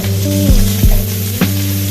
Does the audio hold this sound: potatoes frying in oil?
yes